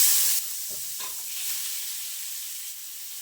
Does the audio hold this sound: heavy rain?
no